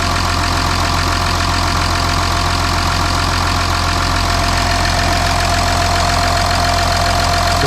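An Audi Q7 engine idles after an engine oil cooler replacement, giving a steady, continuous mechanical hum with a low drone. It sounds loud and close, with no pauses and no talking.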